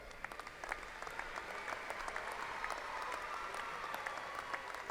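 A commencement crowd at Angelo State University's fall ceremony applauds graduates, giving a sustained, even wash of many hands clapping at a moderate distance, with no talking over it.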